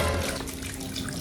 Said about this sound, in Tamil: பக்கெட் ஃபுல்லா தண்ணி புடிச்சிட்டேன்.